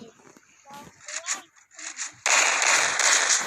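A burst of loud crackling firecracker pops erupts partway through, following quieter talk and scattered sounds, and continues densely to the end.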